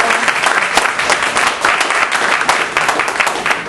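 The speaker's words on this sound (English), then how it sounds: "Can we give a round of applause for those folks who endorsed this?" Audience applause for the endorsers of a measure at a civic meeting, a steady wash of many hands clapping with a few sharper claps standing out, sustained at even loudness throughout.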